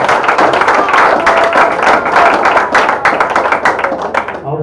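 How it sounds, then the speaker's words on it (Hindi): Audience at a Hindi hasya kavi sammelan clapping for the poets, a dense, steady patter of hands close by, with some voices mixed in under the clapping. "एक बार आप तालियां बजाएं उन सबके लिए"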